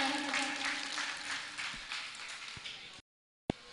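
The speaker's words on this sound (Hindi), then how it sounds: "इनके लिए भी एक बार जोरदार तालियां बजाएं" An audience at a religious discourse gathering breaks into steady, enthusiastic applause, a continuous wash of many hands clapping at moderate distance that cuts off abruptly.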